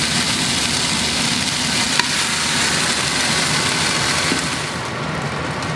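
Beef browning in oil inside an Instant Pot on the saute setting gives a steady, close, dense sizzle that holds at an even level throughout, with no one speaking over it.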